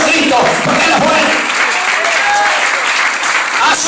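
A Spanish-speaking church congregation applauds loudly and steadily during a sermon, dense clapping with voices calling out underneath.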